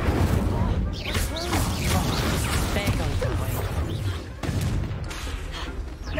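Incendio fire spells cast in Hogwarts Legacy on Nintendo Switch: repeated bursting, crackling blasts and impacts in quick succession, with a voice sounding over the game action.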